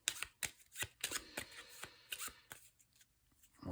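Playing cards shuffled and handled during a Tiny Epic Defenders board game, a quick run of crisp papery flicks and slaps, close and fairly quiet, with no talking.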